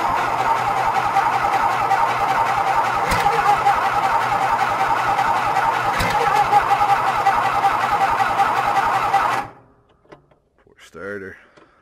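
A John Deere engine cranks over on a cold winter start, a loud rapid rhythmic churn held for about nine seconds without catching, then it cuts out and a voice speaks briefly.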